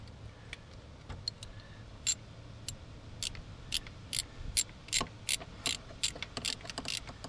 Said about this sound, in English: I'm going to take my 14 mil wrench, switch it to Tighten,